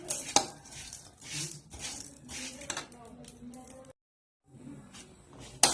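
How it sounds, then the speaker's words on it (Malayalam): Metal scraping and clinking in a pan as dry vermicelli is roasted brown and stirred, with irregular scrapes and taps, a brief silence, then more stirring. "നമ്മളിപ്പോൾ സേമിയ വറുത്തുകൊണ്ടിരിക്കുകയാണ്"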